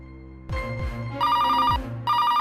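A phone rings at night in a home scene from a Marathi TV serial: an electronic ring in repeated bursts, with low sliding tones beneath. No one speaks.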